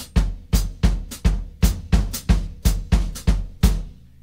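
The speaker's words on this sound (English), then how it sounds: "one bass drum alone, one hi-hat alone, a bass drum alone, and then together" A baião foot pattern played on bass drum and hi-hat: about a dozen evenly spaced, punchy low thumps mixed with short chick accents in a steady, repeating rhythm, close and loud with no talk.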